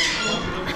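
A parrot at a parrot house lets out one short, harsh squawk, loud and close, with no one talking over it.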